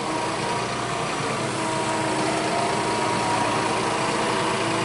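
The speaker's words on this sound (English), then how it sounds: "1050 Fendt-tractor, and he's 500 horsepower" Fendt 1050 tractor with a 500-horsepower engine running, a steady loud mechanical drone with a rattly, even texture that holds constant throughout, with no talk.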